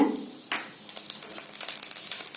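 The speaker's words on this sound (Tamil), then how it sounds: "எண்ணெய் காஞ்சிருச்சுங்க கடுகு வெள்ளுளுந்து போட்டு சேர்த்துக்கலாங்க" Mustard seeds and urad dal hitting hot oil for sundal give a loud initial burst, then settle into a dense, fast crackle of small pops, close up and with no voices.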